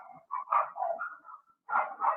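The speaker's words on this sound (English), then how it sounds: "you may hear my puppies right now" Several puppies bark and yip in short bursts at moderate distance, with a pause in the middle before two more barks, in an indoor home setting.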